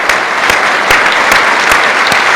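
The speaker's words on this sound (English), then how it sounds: "another round of applause for a fantastic class of 2014" A crowd at the 2014 USBC Bowling Hall of Fame induction ceremony applauds the inductees, loud, dense clapping with a few sharper individual claps standing out over the steady roar.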